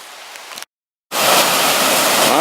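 Creek water rushes through the Smoky Mountains, first a moderate wash, then a sudden silent gap, then a loud, continuous roar of flowing water.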